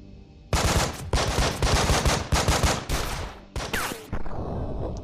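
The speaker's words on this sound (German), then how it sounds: "Los, schieß noch einmal." Bursts of rapid automatic gunfire from the tactical shooter game Breach & Clear, several loud sustained volleys separated by brief pauses, with no talking over them.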